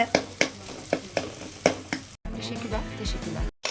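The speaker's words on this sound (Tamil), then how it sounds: "இப்போ வந்துட்டு வெங்காயம் வதங்கிருச்சு பாருங்கள்" Onions sizzle in a hot pan for an egg stir-fry, a steady frying hiss broken by sharp scraping strokes of a spatula stirring, followed by a brief gap and continued louder frying.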